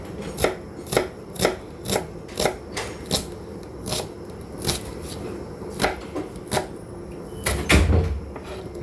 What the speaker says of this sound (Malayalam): അപ്പം നമ്മളിനി സവാള കട്ട് ചെയ്തെടുക്കണം